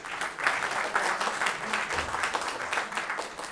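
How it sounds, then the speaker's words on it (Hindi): A theatre audience claps together in a dense, even burst of applause that holds throughout, fairly close and without speech. "मैं चाहूंगा कि इस पुनीत कार्य में अपना उत्तरदायित्व का निर्वहन करें और जोरदार तालियां बजाएं।"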